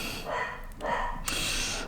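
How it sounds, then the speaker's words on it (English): A dog barks downstairs in a house, two or three muffled, fairly distant woofs with breathy snorts between them, no talking over it. "my dog barking downstairs"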